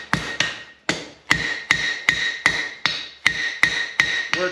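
A blacksmith hammers metal to taper it, with about a dozen sharp ringing blows in a steady, even rhythm, each strike clanging loud and close with a short decay.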